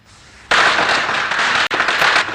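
Firecrackers burst in a rapid crackling string, loud and close, starting abruptly after a quiet moment, with one brief gap before the popping resumes.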